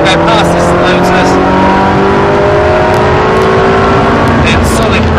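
A Ferrari on the Silverstone track, the engine held in fifth gear under power and droning loudly as it accelerates past another car, heard from the cockpit, with a driver's voice speaking over it.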